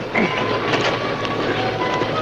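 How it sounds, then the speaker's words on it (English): A train on a wooden trestle rumbles and clatters close by in a 1952 western, a dense rolling rattle of wheels and cars with faint squealing tones riding over it, loud and continuous throughout. "Sounds like a train now."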